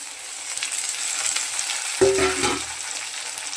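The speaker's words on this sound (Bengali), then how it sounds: "এই আলুটা ভাজা হয়ে গেছে আমার। এবার আমি দিয়ে দিচ্ছি কাঁচা লঙ্কা আর টমেটো" Potatoes frying in oil as green chili and tomato go into the pan: a steady close sizzle throughout, swelling into a louder, busier burst for about half a second midway, with no talk.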